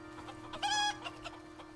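Chickens in the video game Icarus give a short burst of clucking, with one brief squawk standing out clearly over a quiet, steady background hum.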